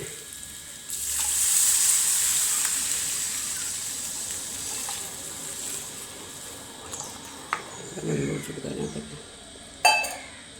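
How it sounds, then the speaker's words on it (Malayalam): Water poured into a pan of fried spice powders, producing a loud sizzling hiss that swells then fades, followed by a few light clinks and stirring sounds. "അതിനകത്ത് കുറച്ച് വെള്ളം ഒഴിച്ചു കൊടുക്കാം"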